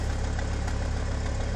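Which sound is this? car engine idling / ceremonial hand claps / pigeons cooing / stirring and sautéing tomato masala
car engine idling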